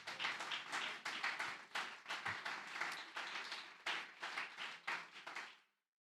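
A church congregation claps in praise to the Lord, brisk rhythmic hand claps in bursts that carry steadily and then stop abruptly into silence.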